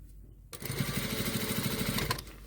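An electric sewing machine stitches a seam on a jumper sleeve being lengthened, a quiet pause giving way to a steady, fast, close-up whirring run of needle strokes lasting about a second and a half before slowing to a stop.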